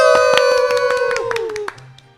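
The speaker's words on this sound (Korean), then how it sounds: "박수!" Handclaps ring out at the opening of a church youth group's online radio-style show, a steady run of sharp claps over sustained, sliding tones that fade out near the end.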